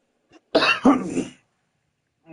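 A single harsh cough, loud and close, with a short throaty burst following, then silence.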